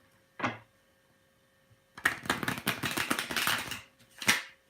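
A deck of tarot cards is shuffled close by in a quick fluttering riffle lasting about two seconds. A brief card snap comes before it and another after it.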